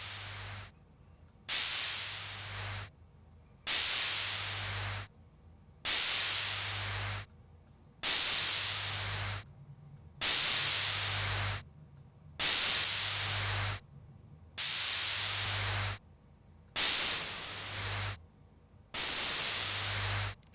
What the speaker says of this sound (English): So we almost created like a white noise here.